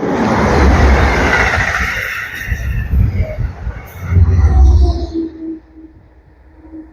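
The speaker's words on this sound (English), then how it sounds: "That's one of the Albany trains" A passenger train to Albany rumbles past up close at Hyde Park railroad station, its heavy roar swelling twice before fading into the distance.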